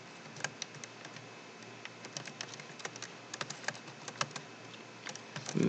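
Typing on a computer keyboard at a Windows command line, a quiet, close run of uneven key clicks with short pauses between bursts.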